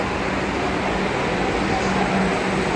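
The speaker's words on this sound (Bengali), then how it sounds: "ট্রেন ঢুকছে" Continuous broad rumble and hiss of a Kolkata metro train pulling into a station nearby, steady and loud, with faint voices in the background.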